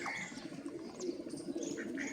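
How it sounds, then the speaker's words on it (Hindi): Caged pigeons coo softly in low, throaty murmurs, with a few faint chirps and light rustling close by, quiet and continuous. "ये देखें अब कबूतरों की गुरगुटुं शुरू हो चुकी है।"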